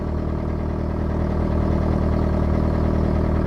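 A dinghy outboard engine runs steadily while being flushed with water. It makes a constant, close mid-pitched drone with a faint clatter, and nobody speaks.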